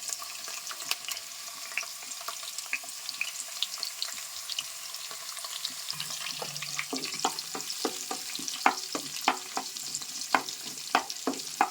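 Chopped bottle gourd and onion fry in hot oil, a continuous crackling sizzle with scattered sharp pops and occasional stirring scrapes, close and steady throughout with no talking.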